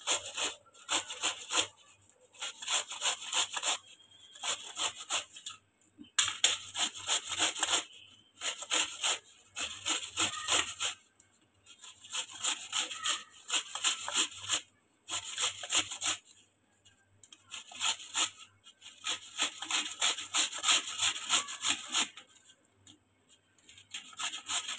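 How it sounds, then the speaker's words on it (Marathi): Bottle gourd (dudhi) rubbed against a grater for halwa, a steady rasping scrape in repeated bursts of strokes separated by short pauses, close and clear with no talking. "ज्या वेळेला आपल्याला बनवायचा असेल हलवा, त्यावेळेला दुधी असं आपण किसून घ्यायचा"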